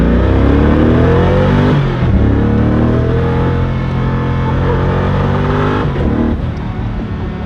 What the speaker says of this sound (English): Who wouldn't pull to the side of the road when a Koenigsegg is on their tail?